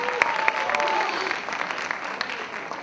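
Festival audience applauding in a steady wash of clapping with scattered sharper claps, fairly close and loud, easing slightly toward the end with no speech.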